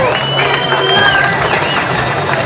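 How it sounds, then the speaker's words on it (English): An X Games crowd claps and cheers in a dense, steady wash of applause with whistles cutting through, heard briefly throughout. "How about a round of applause for Chris Miller?"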